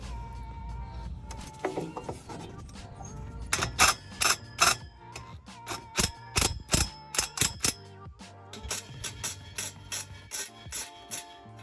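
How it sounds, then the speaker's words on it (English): Quick bursts of metallic ratchet clicks tightening bolts on a 2022 Honda Civic Si, coming in short rhythmic runs with brief pauses, close by and fairly quiet, after some initial rustling. "All that's left is to tighten all the bolts"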